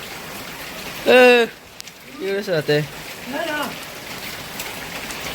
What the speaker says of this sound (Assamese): প্ৰায় 10টা বাজিলে বৰষুণ দি আছে